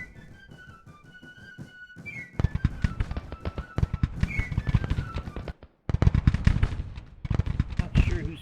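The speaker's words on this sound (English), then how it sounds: "Like my artillery is firing." Cannon fire from Civil War artillery in the strategy game Grand Tactician, heard as rapid bursts of booming shots in dense clusters, loud and irregular, with two brief silences and a thin whistling tone near the start.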